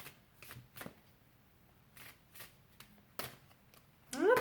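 Several brisk riffling bursts of cards being shuffled, separated by short pauses, close and fairly quiet, ending in a louder rustle.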